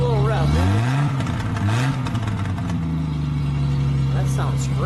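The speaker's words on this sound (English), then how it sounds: "Give it just a little rev, man." Close to the exhaust, a 1974 Triumph TR6 convertible's engine revs up and drops back twice in quick blips, then holds a steady idle, with someone talking over it near the end.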